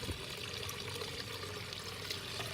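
Water from an outdoor container pond being drained out by hand trickles and pours quietly and continuously, faint and without speech.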